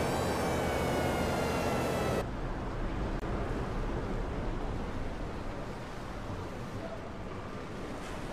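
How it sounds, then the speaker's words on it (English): Aircraft engines drone over wind and ocean surf in the Battlestations Midway naval battle game, a dense steady roar that drops in level after the opening couple of seconds and carries on as a continuous wash. "We have incoming enemy aircraft."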